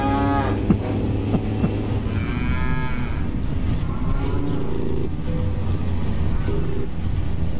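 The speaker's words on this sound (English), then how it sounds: "And the cattle are serenading us." Cattle moo repeatedly inside a livestock trailer hauling 25-tonne bulls in Euro Truck Simulator 2, the long lowing calls layered over a steady truck engine hum and road drone.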